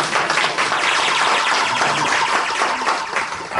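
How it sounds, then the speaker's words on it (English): Audience applause at a town hall meeting for a Nigerian presidential campaign, a steady, loud wash of many hands clapping close by, unbroken for the whole stretch with no voices. "This is a nice place to clap for."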